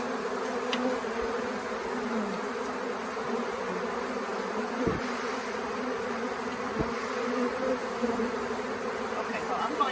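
A swarm of bees pouring out near a hotel tree, a dense continuous buzzing drone at close range that holds steady throughout, with a couple of brief knocks and faint voices in the background.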